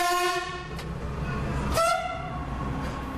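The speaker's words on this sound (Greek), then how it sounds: "Το τρένο σφύριξε για πρώτη φορά μετά από 8 χρόνια αδράνειας." A Greek suburban railway train sounds its horn on a test run after eight years out of service, giving a loud, tonal whistle that swells briefly and then holds over a low rail rumble, with no voices.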